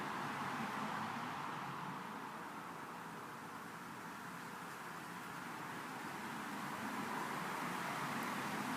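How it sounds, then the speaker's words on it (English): Road traffic on the far side of a wall comes through as a faint, muffled, continuous rumble and hiss, swelling slightly at the start and end with no distinct passing vehicles. "traffic on the opposite side of the wall"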